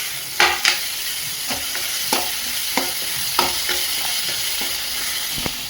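Steady hiss of curry leaves frying in hot oil, with sharp crackles and pops bursting out every second or so, no voices.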